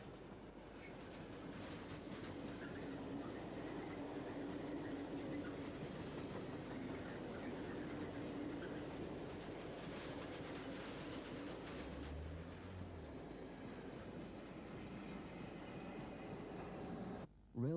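A freight train on the Brenner Pass railway, a steady rolling rumble of wagons over the rails with faint clicking, heard at low level and continuing throughout.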